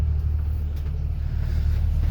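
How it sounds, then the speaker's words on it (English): A new school bus drives along, giving a heavy, constant low engine rumble heard from close by, with no talking. "I gotta move this bus behind it before I leave."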